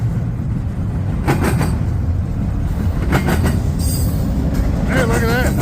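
A long freight train with distributed power units rolling past nearby, a steady loud rumble with rhythmic clanks from the cars and a faint squeal late on, heavy and continuous throughout.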